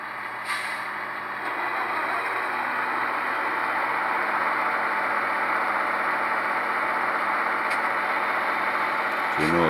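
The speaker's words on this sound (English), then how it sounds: "So you notice how the second engine turned on and it got louder." A Genset II Tsunami 2 Dynamic Digital Exhaust system produces a steady engine rumble that swells and grows louder as a second engine sound joins in. A voice talks over it, with a brief sharp click near the end.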